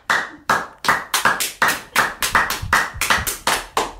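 Hands clap about a dozen times, sharp and close, in an uneven rhythm that speeds up midway, with no voices over them.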